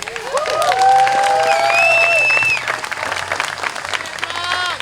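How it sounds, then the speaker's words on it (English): Crowd applause and cheering at a BMX jam gathering celebrating a rider, loud and sustained throughout, with whoops and shouts rising over steady clapping and a voice calling out near the start. "Can we get a huge round of applause for John Lee?"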